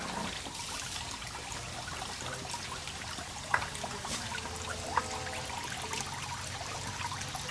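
Water trickles and streams steadily out of a hanging slurry sack after a dissolved-air-flotation test, a continuous low pour with a couple of faint drips, heard alone.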